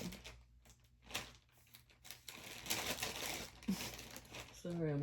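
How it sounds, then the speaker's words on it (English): Wrapper crinkling close to the microphone, bursts of crisp rustle through most of the clip mixed with brief talking and card-deck handling. "Sorry, I'm crinkling in your ears, everybody."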